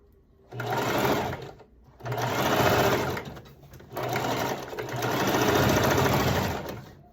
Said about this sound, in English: Okay, so I got that seam sewn